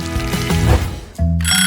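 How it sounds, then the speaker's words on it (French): A kitchen alarm goes off, a loud steady electronic ringing tone that breaks briefly and then resumes with a brighter, higher shrill, close and alone. "Oh, l'alarme a marché."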